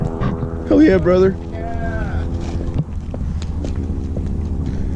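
A 12 valve Cummins diesel engine running with the exhaust removed gives a steady, rough low rumble close by, while a person talks briefly over it near the start.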